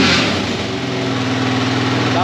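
A carburetor-fed engine runs close by, a steady rough drone with a fast regular throb, while a person talks over it.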